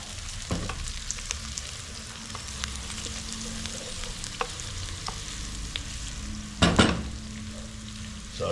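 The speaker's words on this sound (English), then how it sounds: "The pepper needs stirred some." Peppers and onions sizzle in a pan for a spicy chicken curry, a steady close hiss with scattered ticks and pops, then one loud scraping stir near the end. No voices.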